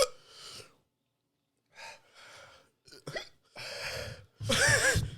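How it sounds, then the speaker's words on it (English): Hiccups and sharp gasping breaths from a man after eating an extremely spicy Paqui One Chip, several short breathy bursts separated by pauses, growing louder and denser toward the end. "Got a hiccup."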